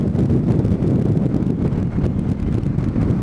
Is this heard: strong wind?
yes